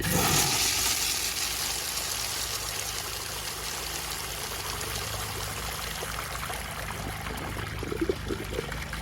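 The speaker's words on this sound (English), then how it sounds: "So now that had a pretty good flush" A Universal Rundle Colburn wash-down urinal flushes at full pressure, with water rushing and splashing steadily across the rim in a continuous hissing stream throughout.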